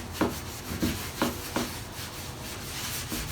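Oil is rubbed by hand onto a steel shovel and hoe in soft, rhythmic strokes, about five quiet swipes at close range.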